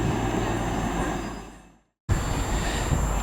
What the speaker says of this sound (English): there it goes, an extra train there to include on the video.